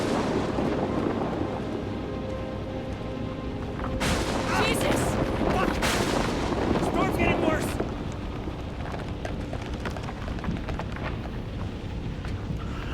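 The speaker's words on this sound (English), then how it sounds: "I've heard that storms in the desert can be pretty bad, but this is ridiculous." A desert thunderstorm in Outlast II rumbles with heavy, booming thunder and sharp cracks in the middle stretch over a constant wash of wind and rain.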